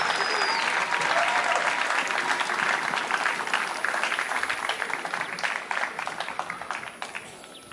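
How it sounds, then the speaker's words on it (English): A crowd gives a warm round of applause for the guest of honor at the opening ceremony of the Zimbabwe Senior National Championships at City Pool, dense sustained clapping that slowly thins out, with a faint voice beneath. "A warm round of applause"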